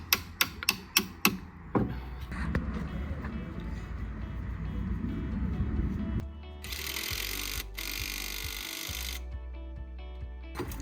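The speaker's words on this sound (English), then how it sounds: "Place back the bolt, tighten the other end with the nut." Shock absorber bolt and nut being tightened on a Mini Countryman 2.0 diesel R60 during wheel bearing work, opening with a few sharp metallic knocks, then ratcheting and mechanical whirring with bursts of harsh noise.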